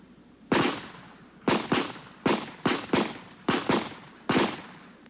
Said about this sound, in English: he transfers his pistol to his left hand to pull the trigger when shooting from the